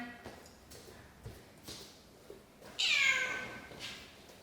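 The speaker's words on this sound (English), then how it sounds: "We throw a little kitten at him." A kitten gives one loud, close, drawn-out meow during a training refresher for a Black Mouth Cur, after a few faint taps and shuffles.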